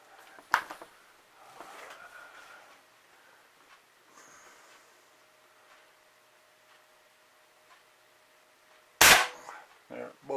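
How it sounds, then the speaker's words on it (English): A rifle being sighted in fires a single sharp, loud shot near the end. Before it come a fainter crack early on and quiet outdoor rustling with faint background noise. "Coming up on shot number three."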